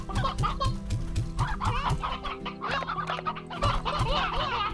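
Chickens and a rooster clucking in the video game Slime Rancher 2, dense overlapping clucks and squawks in quick rhythmic bursts, loud and close with no talking.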